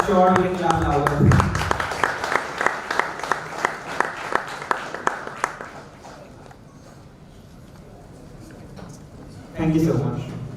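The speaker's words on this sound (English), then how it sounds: "I'm sure we can clap louder." Audience applause at a blockchain hackathon kick-off event, a steady run of claps after a voice, fading out over several seconds before another voice returns.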